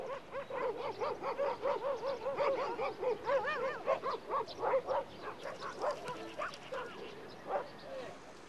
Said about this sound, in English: At night, their howls are an eerie reminder that there's still much to be done to make Kabul a safe, well-run city.